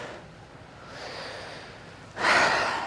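Deep breathing during a yoga flow, a soft drawn-in breath swelling gradually, then a sharper, louder exhale through the nose near the end, close and quiet overall.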